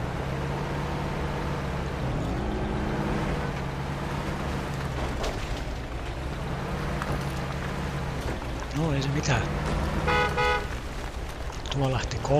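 Truck horn toots in the Mudrunner off-road driving game, a few sustained tonal blasts with bends near the end, loud over a constant droning engine rumble.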